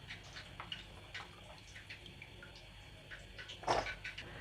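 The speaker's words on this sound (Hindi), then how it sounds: "ये पानी में से निकाल के अच्छे से इनको निचोड़ कर हम लोग इस बाउल में ऐड करेंगे" Soaked raw potato fingers are squeezed by hand over a bowl, giving faint scattered drips and trickles of water with one louder splash near the end, in a quiet kitchen.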